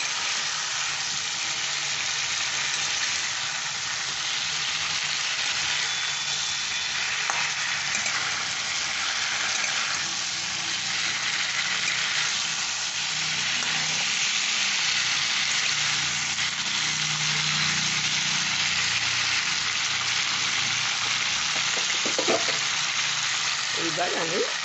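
Cauliflower frying in mustard oil for a vegetarian cauliflower dom, a loud, steady, close sizzle with stirring scrapes throughout, no talk.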